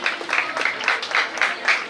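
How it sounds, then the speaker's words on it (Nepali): Steady applause from a group, a continuous patter of many hands clapping for two seconds with small swells, and no voices on top. "ताली बजाइदिनु होला।"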